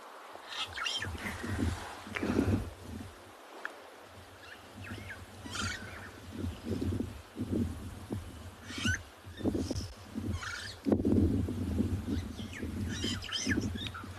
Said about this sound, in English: There's a starling at the top of this tree singing its heart out at the moment.